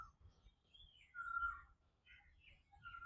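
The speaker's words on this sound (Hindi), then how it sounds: "बर्ड्स की चिरपिंग सुन रहे हैं।" Birds chirp outdoors in faint, scattered high tweets and short trills, with quiet pauses between calls and low background rumble.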